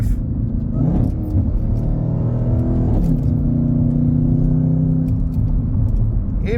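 A Dodge Hellcat Widebody engine revs and accelerates up close, its rumbling pitch rising and falling through a couple of surges, with no talking.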